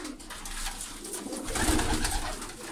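Pigeons coo softly at a loft in Tabuk, Saudi Arabia, with low, rolling calls close by over faint background noise.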